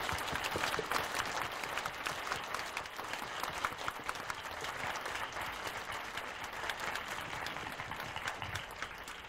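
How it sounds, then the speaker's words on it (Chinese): Sustained applause from a lecture audience, dense and steady clapping filling the room for about nine seconds without pause. "让我们用热烈的掌声欢迎李宗盛大哥"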